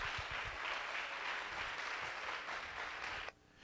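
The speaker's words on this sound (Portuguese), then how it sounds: "dê uma salva de palmas ao Senhor Jesus" A church congregation claps together in a sustained, even burst of applause that cuts off abruptly near the end.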